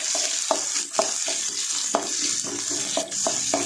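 Chopped onions frying in oil with mustard seeds, curry leaves and dry red chillies, a constant loud sizzle broken by repeated rhythmic scrapes of a spoon stirring the pan.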